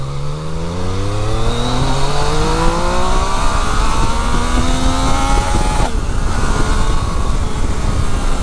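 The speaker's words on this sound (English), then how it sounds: "You can hear that induction whine there" Yamaha Tracer GT motorcycle pulling through the gears, a loud, steady engine drone with rising harmonic whine over about six seconds, then a gear change and a fresh climb, with no talk.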